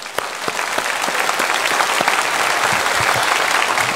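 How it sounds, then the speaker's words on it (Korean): Congregation clapping during a Sunday church worship service, a dense, even burst of applause from many hands in a reverberant hall, continuous for a few seconds without speech. "박수로 축하합시다."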